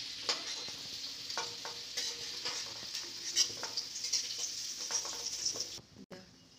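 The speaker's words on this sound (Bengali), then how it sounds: "এবারে একটু ভাজা ভাজা হলে আমি আলুগুলোকে তুলে নেব" Potato pieces frying in oil with salt and turmeric produce a quiet, continuous sizzle with frequent light stirring taps and scrapes, which cut off abruptly near the end.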